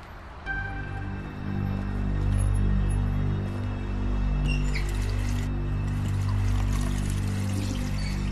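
In The Wolf Among Us, water pours in a steady, soft trickling stream, close and continuous for several seconds, with a faint background tone and little else.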